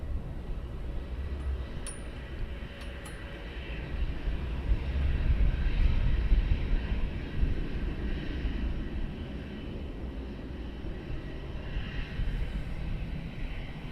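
Aircraft departing from Luton Airport, a loud, broad jet engine roar that swells to a peak midway and then slowly eases while staying strong, heard alone with no talking.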